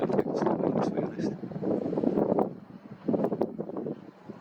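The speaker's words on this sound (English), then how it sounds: "Check out the wind." Strong wind buffets the microphone outdoors at night in Gibraltar, producing a loud, continuous rumbling roar that surges and eases in gusts for several seconds.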